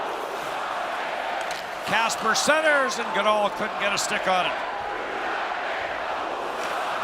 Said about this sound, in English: And the crowd into it now with 8:35 to go.